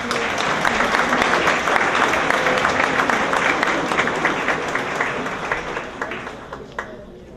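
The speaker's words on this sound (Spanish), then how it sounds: "Recibamos igualmente con un caluroso aplauso al doctor Juan Carlos Morón Urbina." Warm audience applause fills a conference hall at a legal advisory convention, steady dense clapping throughout that gradually thins and tapers off near the end, with no voices over it.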